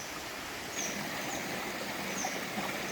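A mountain valley stream at Naeyeonsan near Bogyeongsa flows in a steady, soft, even rush of water with no break, heard alone and at a modest level.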